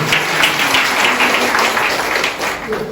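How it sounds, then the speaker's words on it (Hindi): Church congregation clapping loudly together during a sermon, a dense, close burst of many hands that holds steady for a few seconds with slight swells. "प्रभु के लिए जोर से ताली बजाइए।"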